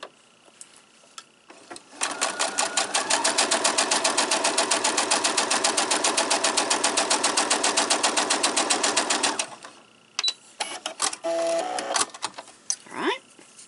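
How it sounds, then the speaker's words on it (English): Sewing machine running a steady seam on a four-patch quilt block, a fast even mechanical whir of stitching for several seconds, with brief handling clicks and rustles before and after. "I'm going to turn it around and I'm going to sew down the other line."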